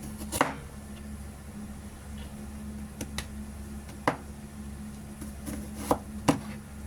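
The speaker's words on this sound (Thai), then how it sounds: "นี่เราจะซอยออกเป็นเล็ก ๆ ชิ้นเล็ก ๆอย่างนี้นะคะ" A knife finely slices shallots on a cutting board, giving sparse, irregular sharp taps spaced about a second apart over a quiet background hum, close by and with no talking.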